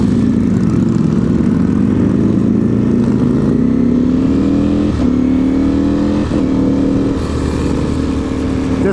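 A 2023 Ducati Panigale V4 SP2 motorcycle engine drones loud and steady on the road through Miami Beach, pitch climbing smoothly through the gears with brief dips at each shift.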